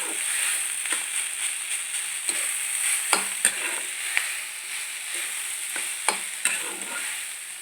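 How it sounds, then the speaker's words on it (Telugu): Idli upma with its tempering being stirred in a pan, a steady scraping and tossing with soft sizzling and occasional sharper clinks of the spoon against the pan, close and fairly quiet, with no talk. "పోపు అంతా ఇడ్లీలు పట్టేటట్లు బాగా కలిపేసుకోండి."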